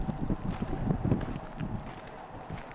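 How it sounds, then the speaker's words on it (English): Wind buffeting an 8mm camcorder microphone outdoors near a freeway and parking lot, producing a low, uneven rumbling roar that swells and fades throughout. "I'm not sure how the audio is going to turn out, because it is pretty windy today."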